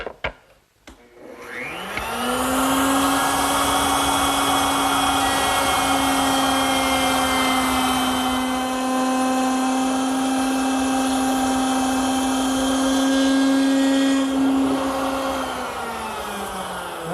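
A router bit cuts into wood for a jewelry box, a loud, steady high-pitched whine that spins up after a brief clatter, holds for about twelve seconds with a slight rise near the end, then winds down, with no talking.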